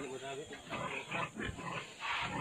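Pigs in a pig house on a farm, grunting and snorting in several loud bursts close by, with a person's voice mixed in among the animal noises.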